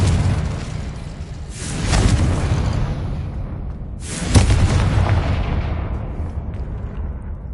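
Two booming blasts from the Confringo spell in Hogwarts Legacy go off a couple of seconds apart. Each one is loud and broad and fades slowly into a rumbling tail, with no talking.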